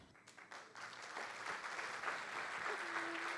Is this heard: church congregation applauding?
yes